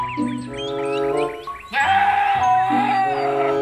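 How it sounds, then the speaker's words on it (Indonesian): Goat bleats on a toy farm-animal washing playset, several wavering cries in a row, close and loud, the second half a longer, harsher bleat. "ternyata ini hewan kambing."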